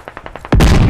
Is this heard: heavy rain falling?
no